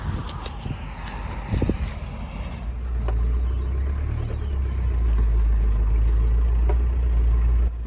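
An overland vehicle drives west along a Canadian road, a steady low engine and tyre rumble that builds after a few seconds and holds close and constant, with no talk.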